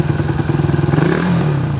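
Rusi Flame 150X motorcycle engine, nine months old, idling with a rapid, even putter and then swelling briefly into a short rev, close and loud with no talking.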